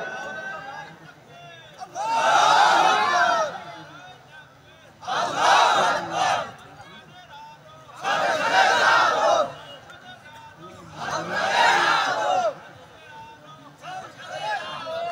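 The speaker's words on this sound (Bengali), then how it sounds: "এবার দেখি পিছন দিক থেকে একজন তাকবীর দিবেন" Crowd at an outdoor Islamic sermon shouting takbir in unison, four loud roaring bursts of massed voices separated by brief quieter pauses, repeated call-and-response style.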